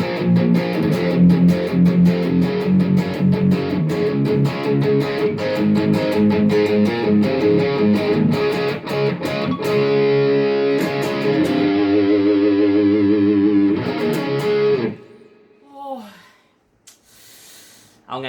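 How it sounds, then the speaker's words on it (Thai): An electric guitar, a 2009 Fender American Deluxe Stratocaster HSS through a Boss GT-1 into an amp, plays thick, buzzing distorted chords and a few single notes, loud and close, then trails off into quiet string noise. "ต่อมาเป็นเสียงแตกกันบ้าง"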